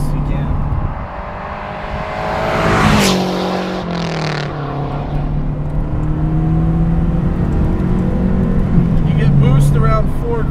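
A Lancia Delta HF Integrale Evo I engine heard from inside the car while driving, revving up and shifting through the gears with rising and falling pitch and a steady drone between, while people talk over it.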